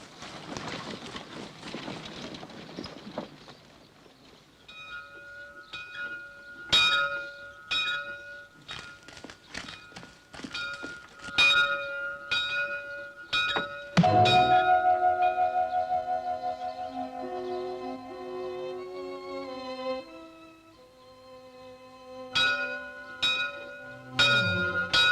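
A church bell rung for Sunday school, loud individual clangs with long ringing decays that come irregularly and then in a quicker run, after a brief noisy scuffle at the start.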